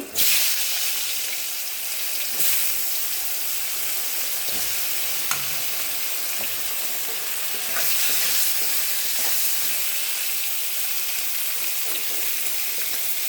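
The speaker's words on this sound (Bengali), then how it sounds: "আলু ভাজার তেলের মধ্যে বেগুনগুলোও ভেজে নেব।" Eggplant pieces fry in hot oil left from frying potatoes, giving a steady, close, loud sizzle that hisses on for the whole stretch with a few soft stirring knocks and no talk.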